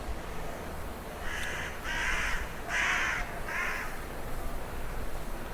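Caws from a crow in the video game Minecraft From The Fog: four harsh, evenly spaced calls over a soft ambient hiss, moderately loud and alone.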